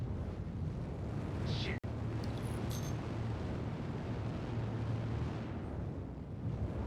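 In the space game Star Citizen, a torpedo is shot down with one sharp, sudden blast. The blast cuts through a constant low rumbling drone of ship noise.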